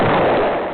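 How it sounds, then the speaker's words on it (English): Explosion in the video game King of the Castle: a loud, dense burst of noise that fills the brief moment and slowly fades. "Oh yeah, more explosions."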